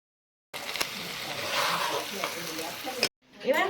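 Aloo dum stirred in a pan, a close steady sizzle and fry with scraping strokes for a few seconds, then a brief silence and a voice afterward.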